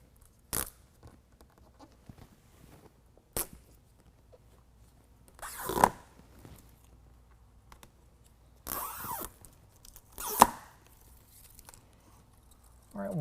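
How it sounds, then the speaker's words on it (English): Adhesive tape backing peeled from an AVS tape-on Ventvisor window deflector on a 2022 Toyota Tundra, heard as several short, close ripping bursts separated by near silence. "go ahead and start peeling away the tape"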